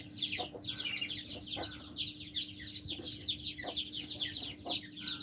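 A hen clucks near a nest where she is about to lay an egg, giving repeated short throaty calls in an uneven rhythm, close but fairly soft, over a low steady hum.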